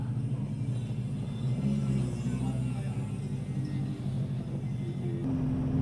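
A 1975 Honda 400 Four motorcycle riding through town in second gear, a steady low engine drone and road rumble at an even level throughout, with no talking.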